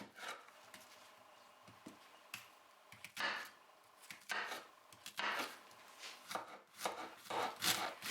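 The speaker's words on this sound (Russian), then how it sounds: "займемся приготовлением лука. Нам его нужно порезать мелко" A knife chops onion finely on a board, a rapid run of crisp, close cuts that grows denser and louder toward the end, with no talking.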